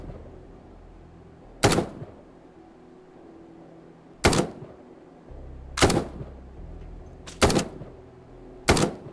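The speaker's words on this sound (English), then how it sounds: "Oh, somebody's shooting behind me." Gunshots in the tactical shooter video game Ground Branch: five sharp, isolated cracks spaced a couple of seconds apart, loud and close against a quiet, faintly humming background.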